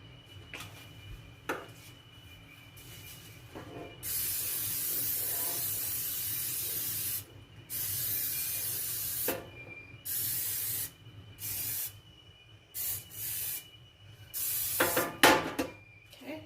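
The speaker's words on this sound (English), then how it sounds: "We're going to spray our pan," Cooking spray hisses into a cake pan in one long steady burst, then several shorter spurts, close and fairly loud, with a low room hum underneath.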